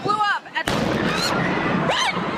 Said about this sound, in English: a second explosion goes off about 130 yards from the first, less than a block away